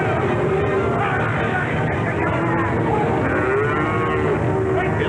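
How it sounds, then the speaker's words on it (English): A stampeding herd of bulls and cattle moos and bellows continuously, many overlapping calls close and loud above a steady rumble of hooves and crowd-like noise, with no clear break. "Angry bunch of bulls here."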